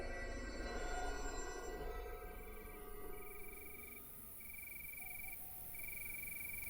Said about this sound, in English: You awaken slowly to the sound of crickets chirping.